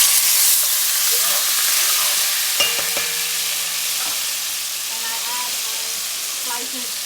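Sofrito sizzles steadily in hot oil in a home kitchen pan, a continuous close hiss with a few clinks of a utensil partway through and light stirring.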